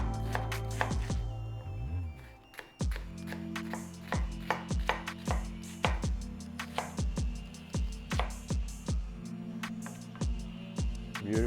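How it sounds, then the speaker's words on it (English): Knife chopping red onion on a cutting board, a steady run of sharp close knocks with a rhythmic cadence, alone with no talk. "So the onion, you can cut it as you wish."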